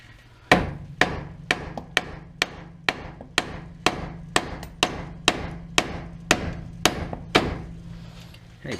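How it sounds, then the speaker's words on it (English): A hammer strikes a tie rod nut or bolt on a Dodge Caravan during tie rod replacement, with about fifteen sharp, evenly spaced metallic blows ringing out over a low steady hum. "just smack that nut or that bolt with a hammer."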